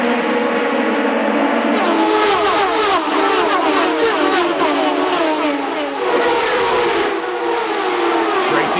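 Several Champ Car open-wheel race cars roar past on the Milwaukee oval during a 2006 race, their high-pitched engines loud and continuous with overlapping Doppler-shifting tones and a steady crowd-and-track wash underneath.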